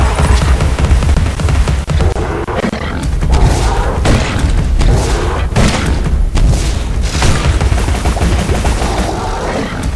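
Pepper grinder shots in Alice: Madness Returns fire as rapid, loud bursts of rattling gunfire mixed with heavy booms and thuds, a dense continuous barrage with a faint grunt.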